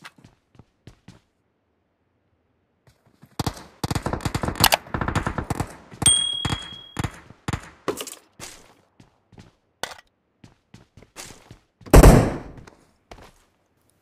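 Gunfire in a PUBG battle royale match: rapid automatic bursts crackle for several seconds, followed by scattered single shots and a heavier blast near the end, loud and close with quiet gaps between.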